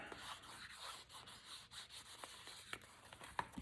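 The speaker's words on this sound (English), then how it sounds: "I just rub that" Distress Oxide ink being rubbed onto an old book page, a faint, steady, soft scrubbing with a few light taps, quiet and close.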